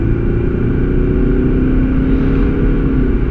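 Mercedes-Benz car with a 7G-Tronic automatic transmission downshifting in sport mode, a loud, steady engine drone with a slight rise in pitch, heard close from inside the car.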